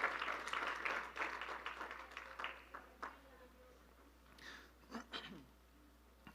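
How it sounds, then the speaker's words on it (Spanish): A church congregation applauds, with quick overlapping claps loud at first, then thinning out and fading into scattered single claps near the end. "Puede darle un aplauso y tome su asiento"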